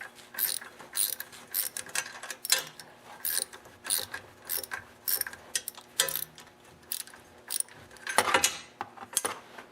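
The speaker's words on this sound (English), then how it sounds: "Now I'm using a 7/16 socket and a wrench." Ratcheting clicks from a 7/16 socket and wrench tightening the shear pin bolt on a snowblower auger gearbox, coming in short quiet bursts of metallic clicking with brief pauses between strokes.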